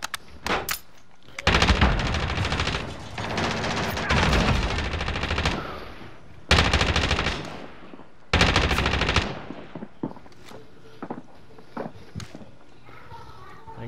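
Sustained bursts of machine gun fire from Call of Duty Modern Warfare, several long loud volleys with short gaps between them, followed by scattered lighter shots and footsteps as the firing dies down, with a voice talking in between.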